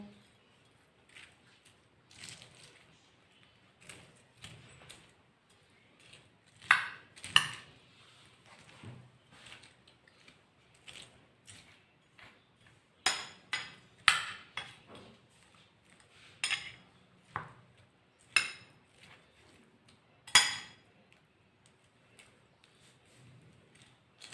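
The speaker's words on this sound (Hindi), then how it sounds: "इसको अच्छी तरह से मिक्स कर देना है" A spoon stirs garlic ketchup into chana dal chaat, giving scattered, irregular clinks and scrapes against a bowl, mostly quiet with a few sharper knocks between soft pauses.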